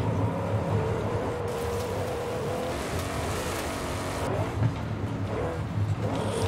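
A twin-turbocharged car engine pulls hard under acceleration, a loud, rough, steady drone with rising surges and a brief louder burst near the end, heard from close by.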